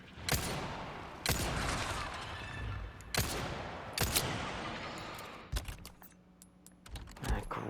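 Separate sharp gunshots in Resident Evil 4 Remake, about five loud close blasts spaced a second or so apart, each with a ringing decay, then lighter clicks and clatter near the end.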